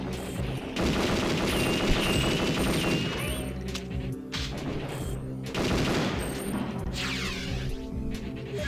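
Weapons fired on the firing range in Perfect Dark, loud rapid machine-gun bursts and repeated shots in clusters with brief pauses, layered with game effects.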